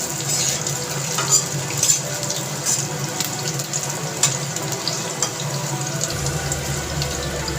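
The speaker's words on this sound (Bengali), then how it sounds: "এখন এই তেলের মধ্যে আমি ছোট ছোট টুকরো করে আলু কেটে রেখেছিলাম, দিয়ে দিলাম। আলুটাকে একটু লাল করে ভেজে নেব।" Small potato pieces frying in hot oil for khichdi: a continuous crackling sizzle with scattered pops, steady and close, no talking.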